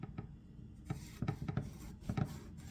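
Knife cutting an eggplant into thick slices on a board, a few separate soft scraping, chopping strokes at close range with no talk.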